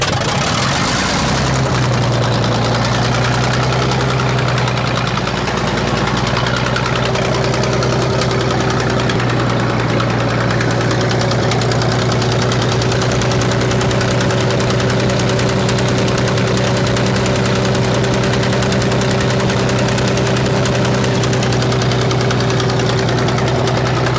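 A small engine with a magneto that was rebuilt last year, started with the choke on. It catches after a moment, then runs loud and steady at a fast idle with a rough, knocking hum and no talking.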